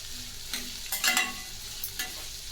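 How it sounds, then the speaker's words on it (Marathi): Flat beans frying in oil with green chilies, a steady sizzle broken by a few quick spatula stirs and scrapes, close and fairly quiet. "याला पण छान असं तेलामध्ये फ्राय करून घ्यायचं आहे, छान मिक्स करून 1-2 ते 3 मिनिट मिक्स करून घ्यायचं आहे।"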